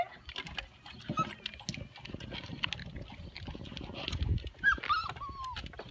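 Small dogs patter and whimper faintly nearby, with soft scuffling, occasional high squeaks, and light outdoor noise.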